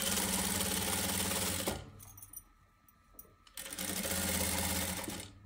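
A sewing machine stitches a velvet kurti in a fast, loud, steady whir close by, stops briefly with soft handling sounds, then starts again at full speed.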